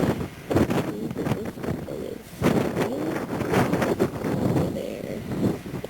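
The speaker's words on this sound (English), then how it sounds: "Quite windy out here today." Gusty wind buffets the microphone outdoors on an eastern Canada vacation, rumbling in strong waves with people talking underneath.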